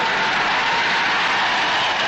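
Dense, steady roar of a cheering crowd of extras for a radio comedy sketch, broadband and continuous without letup, no individual voices standing out.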